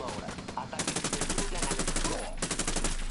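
Rapid automatic gunfire in Ghost Recon Wildlands rattles in loud, closely spaced bursts that run nearly the whole stretch, with a short break before another volley.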